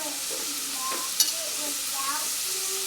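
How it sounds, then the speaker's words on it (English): Minced celery and onion sauteing in a pan over medium heat for cream of celery soup, a steady close sizzle with a few soft stirring scrapes and one brief clink. "saute these vegetables a little bit."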